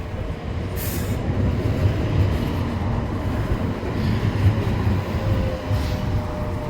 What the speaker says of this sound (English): And there we are, the main trams here in Sheffield.